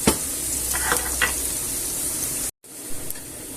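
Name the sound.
onions and peppers frying in a pan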